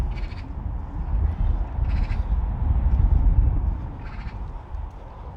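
Crows caw outdoors on Spike Island, a few separate harsh calls spaced several seconds apart over a steady low rumble of wind and distant traffic.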